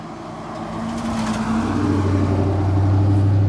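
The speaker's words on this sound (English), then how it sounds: "we got a truck coming down the road" A truck approaches along the road, its engine rumble swelling steadily from moderate to loud as it draws near, a deep droning motor that dominates by the end.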